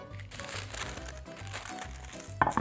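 Close, quiet crinkling of baking paper as it is folded and cut with scissors, with short rustles and soft crunches repeating over a few seconds and a slightly sharper crackle near the end.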